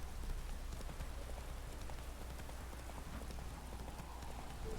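Horse hooves in The Witcher 3: a steady, quick clip-clop rhythm at moderate distance over a constant low rumble and faint patter, fairly quiet, with no talking.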